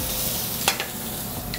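Shrimp sizzle in a hot sauté pan, a steady loud hiss of frying with a couple of brief clacks and stirs partway through.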